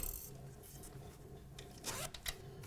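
A quiet zipper drawn in a short rasping stroke, close up, with soft rustling of fabric around it; a newly sewn lapped zipper.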